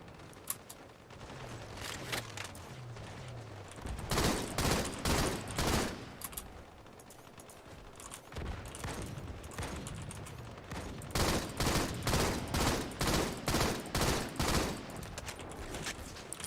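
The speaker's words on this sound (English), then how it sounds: "Who's shooting me? What is that a shotgun?" Halo shotgun fire sounds as heavy, loud bursts of repeated blasts in rapid rhythmic volleys, dense and continuous through much of the stretch, with sustained booming low end and no talking.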